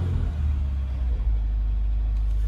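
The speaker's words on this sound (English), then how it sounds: "But I'm not sure if you could hear the car." A 2021 Subaru WRX base model idles steadily, its low, even engine rumble heard from nearby, with no talk over it.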